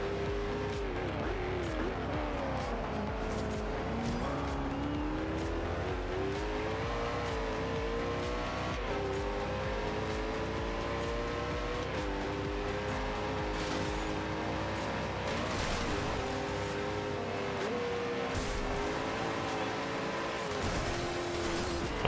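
In the racing game Forza Horizon 2, a Koenigsegg Agera engine revs through repeated rising and falling gear pulls, loud and continuous, with occasional tire squeal and no talking.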